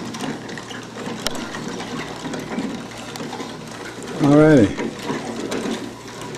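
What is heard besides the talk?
wooden machine running on wooden chain and sprocket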